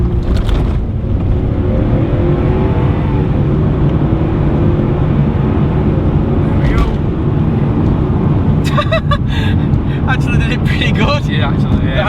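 A Lexus GS430 sedan on wet roads accelerating hard from a standstill, a loud sustained engine roar climbing steadily with road noise and wind, heard from inside the car, with brief clicks and beeps near the end.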